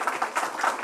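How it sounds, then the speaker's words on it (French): A crowd applauds, a brief burst of fairly close, rhythmic clapping that stays steady throughout. "faites-moi le plaisir de les applaudir très fort"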